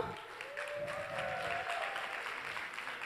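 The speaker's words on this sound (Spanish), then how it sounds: "Así que vamos a recibir a Sabri con un gran aplauso." Audience applause welcoming a speaker to a talk, a brief, fairly faint wash of clapping with a faint voice or tone over it, lasting about three seconds.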